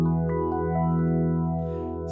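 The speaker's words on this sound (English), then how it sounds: "My favorite, the phase shifter, sounds like this." Sustained keyboard chord run through a phase shifter effect, with slow sweeping swooshes rising and falling across the held tone, close and steady with no talking.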